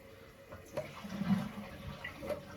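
A dual flush toilet flushes after a repair to its flush button, giving a soft, near rush of water that swells briefly in the middle and then settles into a low gurgling wash.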